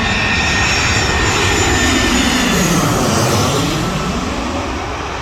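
Airplane passing at night near Reagan airport, a loud, continuous jet roar close overhead that swells slightly and then eases off toward the end.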